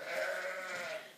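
Sheep and lambs in a lambing shed, a continuous nasal bleating call held for about a second, close and fairly loud, with no talk over it.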